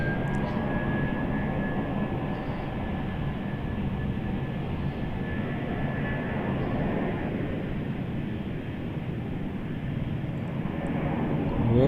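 A Jetstar Airbus A320 airliner at Melbourne Airport, a steady broadband engine roar with a faint high whine, sustained and fairly near for the whole stretch with no talk over it.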